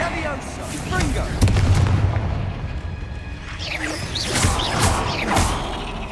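Spell effects in Hogwarts Legacy, with loud booming blasts, crackling magical whooshes and explosions layered together, while a voice shouts spell names over the noise.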